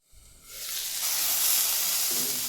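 Garlic cloves sauté in a covered pan for a Kerala dish, a steady close sizzle and hiss that swells quickly after a brief soft start and holds at an even level, with no talk.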